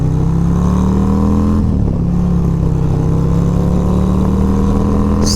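A 2023 Harley-Davidson Road Glide ST with a 131 big-bore kit rumbles at steady speed on an open road, its loud, deep engine drone continuous and close with a brief dip in the middle.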